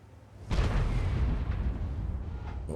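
An artillery shell lands in a tank battle game, a sudden heavy boom followed by a rumbling roar that lingers and slowly fades.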